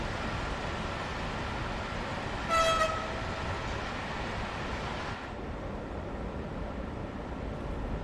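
A Vectron locomotive hauling a short passenger train in Germany rumbles past steadily, with a brief two-tone horn toot sounding near the middle before the train noise continues.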